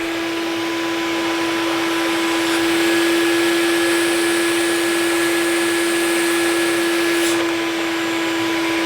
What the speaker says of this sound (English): then just pop the vacuum cleaner in the other end